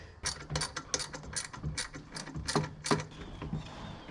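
A hand ratchet wrench clicks through quick short strokes on car bolts during a thermostat and temperature sensor replacement on a 2015 vehicle, a close series of crisp ratcheting bursts with brief pauses between them.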